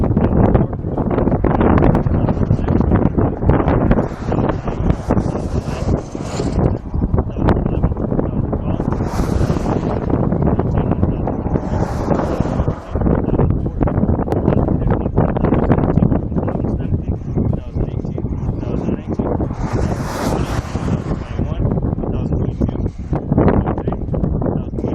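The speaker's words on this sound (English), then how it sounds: "It's super windy." Strong wind roars and buffets the microphone continuously, loud and close, with occasional higher gusts and faint talking underneath.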